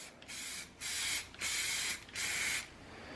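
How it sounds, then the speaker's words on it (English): A paint spray gun sprays paint onto a rusty flatbed Chevy Silverado truck, four loud hissing bursts of about half a second each with brief gaps between, close and alone. "These just spray super well,"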